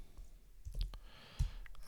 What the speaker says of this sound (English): I'm okay typing a little bit.